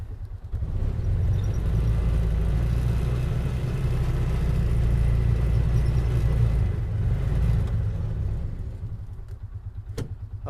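A Polaris Ranger UTV backs up with a steady low engine rumble and drivetrain whir that holds evenly, then fades near the end before a single sharp click.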